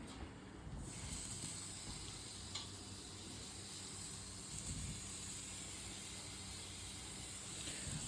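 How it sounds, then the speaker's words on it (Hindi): Diced paneer tipped into sautéing mixed vegetables, a steady, soft, hissing sizzle that continues evenly throughout with a few faint clinks, no one talking. "एंड अब मैं इसको डालूँगा अपने मिक्स सॉटे वेजिटेबल्स में"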